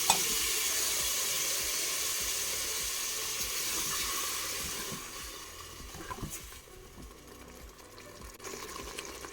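Prepared mixture for a Tunisian chorba sizzles and fries in a pot, a steady loud hiss that quiets partway through as stirring clinks and scrapes continue, with no talking.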